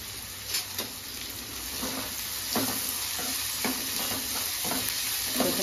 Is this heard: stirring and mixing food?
yes